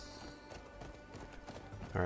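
Horse hooves clip-clop in a video game during a live stream, a steady trotting rhythm running throughout under continuous talk, with a louder burst at the very end.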